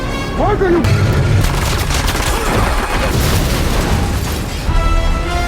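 Rapid gunfire bursts in a film car chase, dense loud volleys with booms over a roaring scene, a voice speaking beneath the din.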